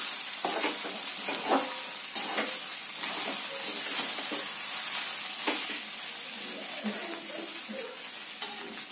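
Kande pohe is stirred with oil in a pan, giving a continuous close sizzle with soft scraping and stirring sounds and no voices.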